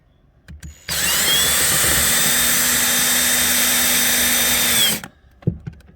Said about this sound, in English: I'm just going to take a screw gun